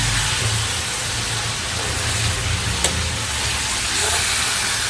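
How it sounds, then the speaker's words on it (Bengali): Paneer frying lightly in a pan in a home kitchen, a steady broad sizzling hiss that holds evenly, with a faint low hum beneath and one brief click near the end. "আজকে পনিরটা একদম হালকা হালকাই ভাজছি, বেশি ভাজবো না"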